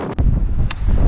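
Strong wind gusts across the Pessac golf course, roaring and buffeting the microphone in a loud, steady rumble with a couple of brief sharp knocks.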